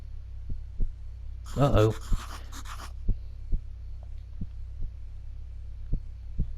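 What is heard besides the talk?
heart beating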